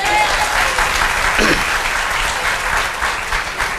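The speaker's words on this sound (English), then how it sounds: "Can we give her a round of applause?" Audience at an all-employee Department of Social Services meeting bursts into sustained, loud applause that fills the room steadily from start to finish and tapers slightly near the end.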